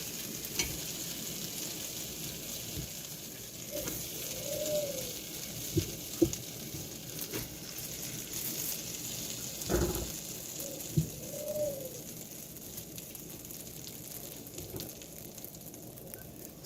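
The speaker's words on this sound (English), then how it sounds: "So I'm going to throw that in and start it browning." Rabbit meat browning in a pot for stew with dumplings gives a faint, steady sizzle, with doves cooing softly in the background and a few light knocks.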